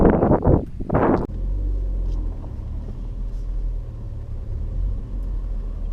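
Steady low engine rumble of a 2016 Ford Focus ST driving, with road and wind noise throughout; a brief burst of rustling or handling noise comes at the start.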